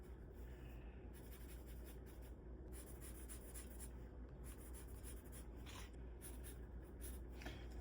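Pen scratching steadily across paper in a loose gesture sketch of an oil refinery, continuous soft strokes close by with no talking.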